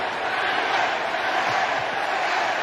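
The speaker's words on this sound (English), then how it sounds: "Crowd is chanting safe." A baseball crowd fills the stadium with a steady, dense roar of massed voices chanting "safe" throughout, loud and continuous with no single voice standing out.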